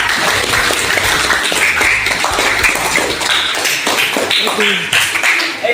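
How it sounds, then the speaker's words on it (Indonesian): A classroom of students claps for a classmate named Amel during an English procedure-text lesson, a loud, ragged burst of hand claps with scattered taps, lively and close throughout. "tepuk tangan buat Amel ya"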